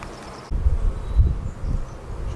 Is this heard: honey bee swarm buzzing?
yes